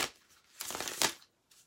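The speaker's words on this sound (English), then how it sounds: "Okay, Devin, so I'm going to shuffle one more." A deck of tarot cards being shuffled during a reading: a soft quick riffle, a longer close-up burst of cards flicking together, then a brief faint rustle.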